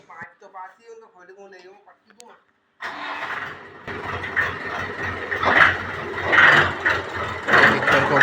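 A Mahindra 475 DI tractor engine fires up and runs in a field as the tractor backs up, a loud rumbling diesel with rising surges, after someone speaks briefly.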